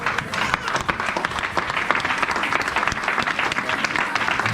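A church congregation, standing to acclaim the name of Jesus, fills the hall with sustained loud applause and clapping, with shouting voices mixed into the steady roar throughout.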